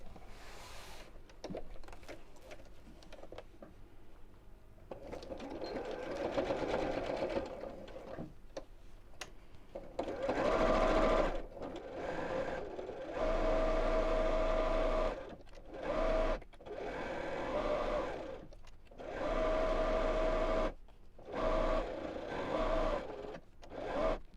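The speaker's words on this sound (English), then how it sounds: "Now I'm going to sew all the way around from this side" A sewing machine stitches around the edge of a fabric wallet in repeated bursts, each steady whirring run stopping and restarting, with quiet handling sounds before the stitching picks up.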